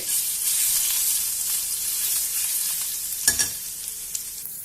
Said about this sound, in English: Add in some grated garlic.